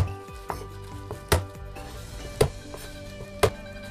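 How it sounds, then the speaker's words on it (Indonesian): Knife mincing crushed shallots on a cutting board, with sharp, separate chops about once a second and light tapping between them, close and clear with no talk. "Lalu saya cincang ya,"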